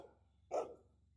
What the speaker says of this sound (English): Lucy's going to start barking at the kids